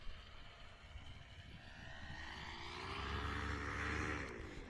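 A paramotor flying in low for a touch-and-go landing, its propeller engine droning steadily and swelling louder as it approaches, with wind rush around it.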